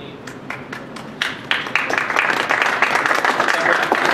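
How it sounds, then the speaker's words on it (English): An audience applauds after a talk, starting with scattered individual claps that quickly build into dense, steady clapping. "please, one more round of applause"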